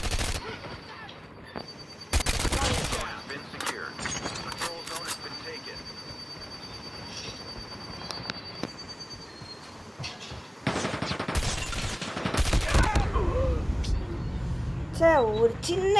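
Gunfire in the mobile shooter Call of Duty Mobile, with bursts of rapid automatic shots breaking out in clusters over a steady in-game rumble, loud and close, while someone talks throughout.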